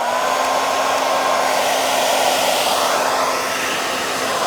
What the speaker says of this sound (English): That's a very hot hairdryer.